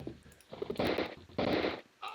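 Two loud bursts of rapid gunfire in the PC game Los Justicieros, each lasting about half a second, with quieter game sounds and brief noises around them.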